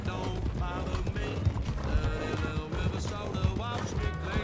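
Horse hooves clip-clop rhythmically in a western video game, a quick, steady beat of hoofbeats heard under background music and voices.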